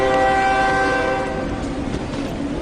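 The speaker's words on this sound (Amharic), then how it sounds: "ወዳጄ ባቡሩ እየሄደ እኮ ነው ሩጥ አፍጥነው እንጂ" A train sounds a loud, sustained horn blast that fades after about a second, followed by the low rumbling clatter of the carriages rolling away.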